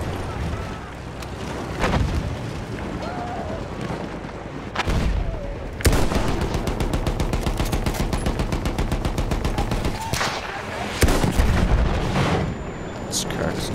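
Battlefield 1 gunfire: a rapid automatic burst rattles for several seconds, with single heavy booming shots before and after it. Loud and close, over a continuous din of battle.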